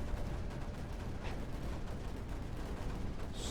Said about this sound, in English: let's get some cannons forward now